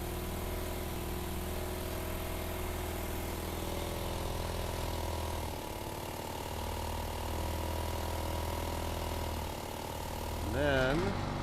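A pressure washer engine runs steadily at a near, constant hum with a low harmonic drone, briefly shifting pitch near the end as the machine is being shut off.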